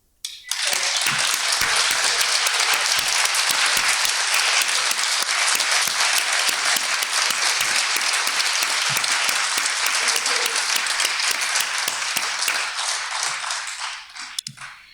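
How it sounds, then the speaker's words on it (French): A Soroptimist France gathering breaks into sustained audience applause for a member's initiative: a loud, dense roar of many hands clapping that swells quickly, holds steady for a long stretch, then tapers off. "tu mérites nos applaudissements"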